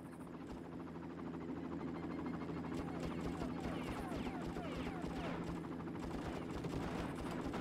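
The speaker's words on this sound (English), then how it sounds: "Okay, there's that helicopter. I've got to shoot it." A helicopter in the video game Far Cry, its low rotor drone thudding steadily while bursts of machine-gun fire crackle over it, with a voice speaking now and then.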